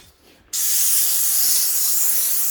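A handheld steam cleaner starts after a brief quiet moment and sends out a loud, steady, close hiss of spraying steam that holds without a break to the end, with no voices.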